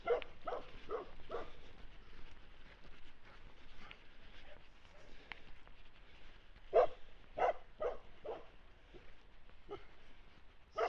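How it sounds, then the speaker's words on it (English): A dog barks in short bursts, first a quick run of barks, then a second cluster after a pause, at moderate distance over a low steady background. "oh yes, dog"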